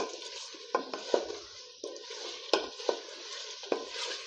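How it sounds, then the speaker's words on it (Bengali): Ginger-garlic spice paste for chicken biryani being stirred and fried in a pan with a little water, a soft bubbling sizzle broken by repeated scraping strokes and taps of the spoon, close and fairly quiet. "এবারে হালকা করে নাড়াচাড়া করে ভালো করে মশলাটাকে কষিয়ে নিতে হবে"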